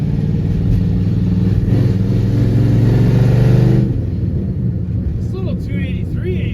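A cheap old Chevy Nova with a sticky column shifter pulls away in first gear. Its engine gives a loud, steady low rumble that builds, then drops off sharply partway through, and voices come in afterward.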